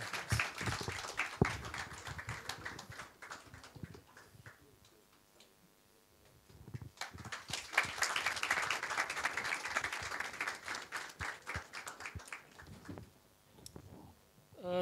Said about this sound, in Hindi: आप लोगों की भरपूर तालियों में सबसे पहले आ रहे हैं शफात रसूल।